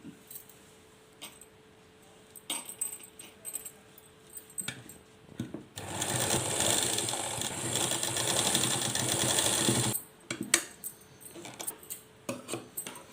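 A sewing machine stitches elastic into a gathered lehenga skirt: a steady mechanical whirr running about four seconds in the middle, framed by softer clicks and fabric handling before and after.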